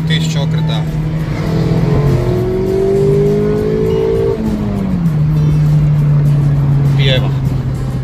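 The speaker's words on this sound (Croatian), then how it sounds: "ali svejedno motor urla, pogotovo gore tamo između 5 i 7 tisuća okreta" A Mazda MX-5 Takumi with a 1.5-litre, 130-horsepower engine revs hard while driving, its loud engine note rising and falling in pitch through the gears, heard from inside the car.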